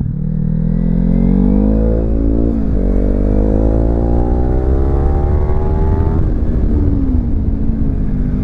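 A Kawasaki Z300 twin-cylinder 300 cc motorcycle revs and accelerates through gears, engine pitch climbing steadily with a shift dip, loud and close under wind rush.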